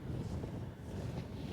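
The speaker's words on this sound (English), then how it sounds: "Oh, it's windy here actually" Wind in Longyearbyen, Svalbard buffets the microphone steadily in a loud, low rumbling roar with no voices.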